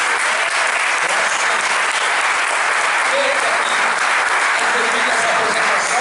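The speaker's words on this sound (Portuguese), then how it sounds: "Você pode dar um aplauso bem forte para o Senhor Jesus?" Church congregation clapping hard and steadily during a thanksgiving service, a dense, loud wash of applause that stays even for the whole stretch with no break.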